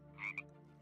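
Single frog croak at night from ambient sound in the game TerraFirmaCraft, one brief two-part croak, fairly faint, over a low steady hum.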